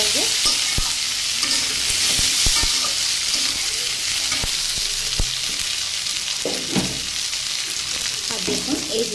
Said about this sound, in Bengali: ঝিঙেটা লবণ দেবো না এরকম করে ভেজে নেবো